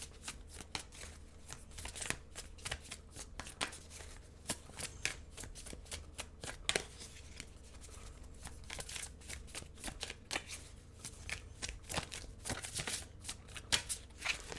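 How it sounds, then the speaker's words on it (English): Tarot cards being shuffled continuously, a steady run of soft riffling snaps and papery flutters close to the microphone with no talking. "I'm getting a lot of intuitive messages for you guys as I'm shuffling here."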